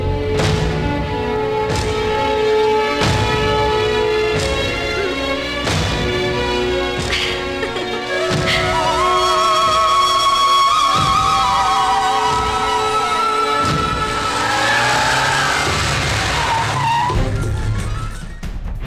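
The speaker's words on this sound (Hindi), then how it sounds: "ए, जल्दी गाड़ी स्टार्ट कर, जल्दी चलना है।" A car revs, its tires squeal and it accelerates away in a film action scene, with loud engine roar and skidding building throughout, no voices over it.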